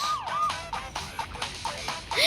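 An ambulance siren in a TV series wails in rising and falling sweeps, moderately loud, broken up by choppy, percussive scene sounds throughout.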